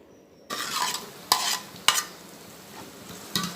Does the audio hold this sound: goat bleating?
no